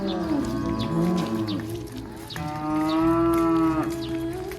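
Cows being led through an Uzbek village moo loudly and nearby, two long drawn-out calls one after the other, with faint birdsong in the background.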